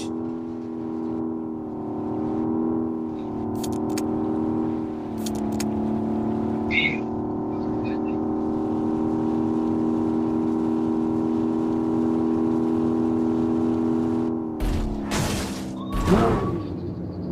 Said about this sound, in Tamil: நான் தான் வண்டி ஓட்டுறேன்